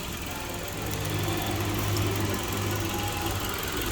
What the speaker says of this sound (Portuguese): Marcha lenta do carro perfeito.